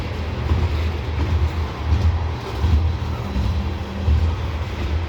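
A heavy, slow CSX coal train rumbles past nearby on Parrs Ridge, Maryland, with a continuous low, rolling drone and faint rhythmic clatter of wagons.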